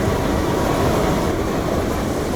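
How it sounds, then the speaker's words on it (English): In a Skyrim mod, a summoned storm of locomotives makes a loud, dense rumbling rattle like rail cars rolling past up close. It is continuous and heavy throughout, with no voices. "see a storm of locomotives brew before you, causing wide area of effect damage"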